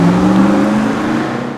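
A 2020 BMW X7 with a 523-horsepower engine and an 8-speed automatic makes a loud, steady engine roar as it accelerates hard from a standstill, briefly and close by.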